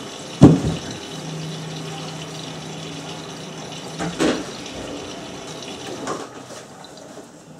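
A Miele W562 washing machine starts its cycle and draws in water, a quiet steady hum of filling flow bracketed by a few sharp clicks and thumps, with softer knocks later.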